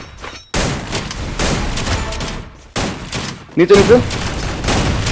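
Rapid bursts of gunfire in the battle royale game Free Fire, several loud volleys separated by short gaps, with a player briefly calling out during the shooting.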